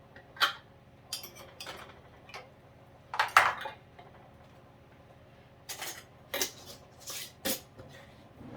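Metal canning lids clink and clatter as they are handled and set onto pint jars of pears: several sharp, separate metallic taps and chinks at irregular intervals, close by, with quiet gaps between.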